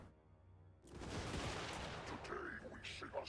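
Crane Gunners fire from castle walls during a Total War siege battle, a dense crackle of distant gunshots woven into a loud, continuous roar of battle noise.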